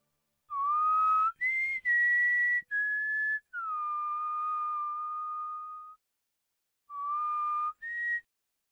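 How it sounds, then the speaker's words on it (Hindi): A woman whistles a short tune alone in clear, bright, pure tones: several sustained notes with brief gaps, one long held note in the middle, then two more phrases after a pause. "इस तरह की सीटी कोई औरत भी बजा सकती है।"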